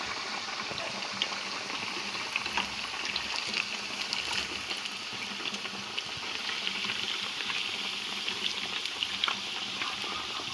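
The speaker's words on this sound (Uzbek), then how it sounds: "Kotletlarimizni qizib turgan yog'imizga birin-ketinlik bilan tashab pishirib olamiz." Beef cutlets fry in hot oil in a pan, giving a steady, close hiss of sizzling with small crackling pops scattered throughout and no talk.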